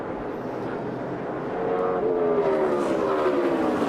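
NASCAR Cup Series race cars roaring around the track, a continuous loud engine drone that swells and shifts pitch as the cars pass, heard from trackside or broadcast distance with no talking over it.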